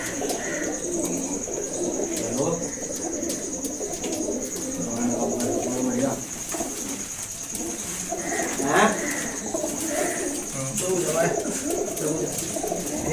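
Pigeons kept by a fancier on a rooftop loft in Kudana, Shamli district coo in soft, repeated murmurs amid chirps and background chatter, with people talking nearby throughout.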